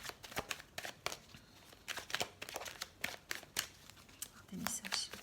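Tarot cards being shuffled close up in repeated quick riffling bursts, with soft papery slaps between them and a brief low murmur of a voice near the end.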